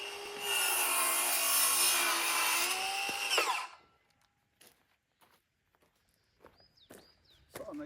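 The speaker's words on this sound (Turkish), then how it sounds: "Daire testeremiz var." A cordless circular saw whines loudly through a short cut in wood while building a raised hügelkultur vegetable bed, then spins down, followed by quiet clunks and handling noises.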